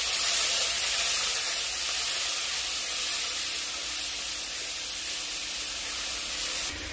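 Spiced water splashed into a hot pan of potato curry, producing a strong continuous sizzling hiss that slowly fades toward the end.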